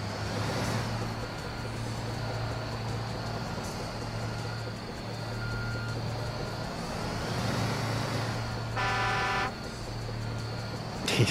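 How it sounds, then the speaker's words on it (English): A truck horn honking in Construction Simulator 2 on PS4 during roadwork tearing up tarmac, sustained engine drone with a steady tone and a brief multi-tone horn blast near the end. "He's honking at me."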